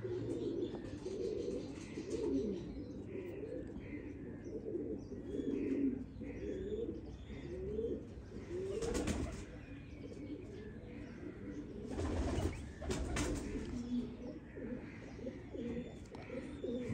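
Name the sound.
pigeons cooing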